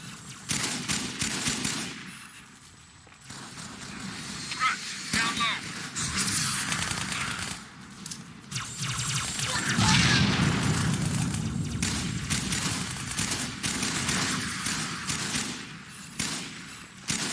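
Sustained automatic gunfire and booming blasts from a battle in the video game Halo 2, loud and continuous, with bursts swelling and fading under voices shouting over the combat.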